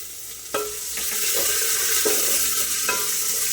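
Steady sizzling of onions frying in a pan, a continuous crackling hiss with a few brief stirring scrapes, close by and fairly loud.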